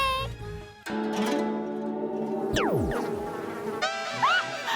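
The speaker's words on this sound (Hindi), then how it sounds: "स्वीटी पाई, अब तुम्हारी बारी, मधुमक्खी आ रही है।" A cartoon bee buzzes in an animated Jeannie Aur Juju episode, a wavering insect drone set against music and sliding tones that rises and falls over several seconds.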